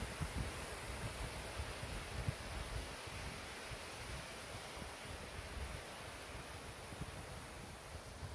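A waterfall on the way to Rudkhan Castle gives a steady, dense rushing roar with no break or change for the whole stretch, heard alone without voices.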